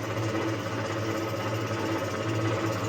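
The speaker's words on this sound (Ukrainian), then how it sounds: "Мотор тут у нас на 4 кВт всього лиш." A 4 kW electric motor driving an oil press in a garage, a steady mechanical whir with a continuous low hum and rapid rhythmic chatter, running unchanged and fairly close throughout.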